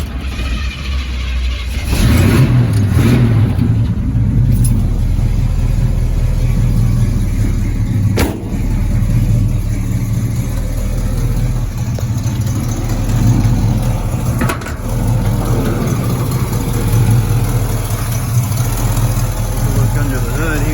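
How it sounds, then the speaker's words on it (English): A 1948 Chevy 3100 three-window short-bed patina hotrod truck with a 455 Pontiac V8 and an aftermarket exhaust runs nearby, giving a loud, deep, rumbling idle with a few brief revs, while someone speaks over it. "Under the hood here, that 455 Pontiac motor, run down the road good. Got a nice sounding exhaust on it."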